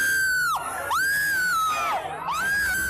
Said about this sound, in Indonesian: Hal ini membuat warga dan petugas yang ada di lokasi kebakaran panik dan berteriak